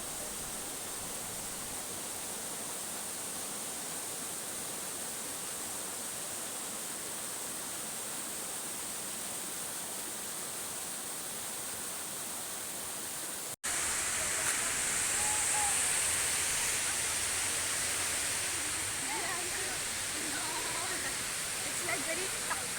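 Cholka Daare waterfall keeps up a steady broadband roar, with a louder, closer rush after a sudden cut partway through.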